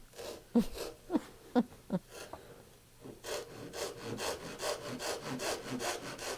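Hand saw cutting a compound dovetail in wood on a bench, a few sharp knocks first, then steady rhythmic rasping back-and-forth strokes, close and quiet.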